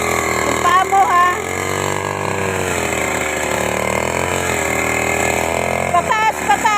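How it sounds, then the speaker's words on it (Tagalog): An old-style grass cutter engine runs steadily at close range, a continuous mechanical drone with a faint high whine throughout, with short bursts of voices near the start and end. "Grass cutter, yung lumang style pa to eh."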